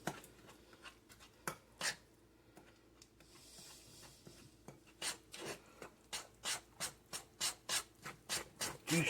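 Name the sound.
stirring batter in a bowl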